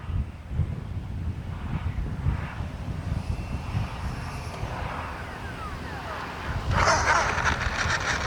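An X-Fly F-22 Raptor RC jet with twin 40mm ducted fans flies overhead at full speed, giving a continuous whooshing whine with wind buffeting the microphone. It swells louder toward the end as the jet passes closer.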